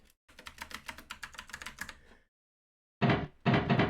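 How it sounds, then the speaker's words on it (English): Computer mouse left and right clicks followed by spacebar presses: a quick run of about a dozen crisp clicks, a pause, then two louder, heavier keyboard thumps close up. "Left and right click on the mouse. Spacebar."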